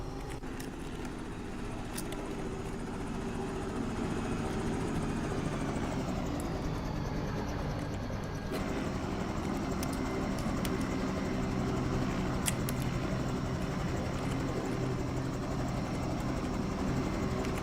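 Bell 222 helicopter in the X-Plane 11 flight simulator, with a steady, loud turbine whine and rotor drone holding evenly throughout, alone with no talk.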